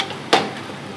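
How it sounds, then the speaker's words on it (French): Soaked, drained ingredients are stirred into a chicken fricassee with chorizo and mussels, giving one quick, sharp scrape and clatter in the pan over a faint, steady kitchen background. "Et on mélange."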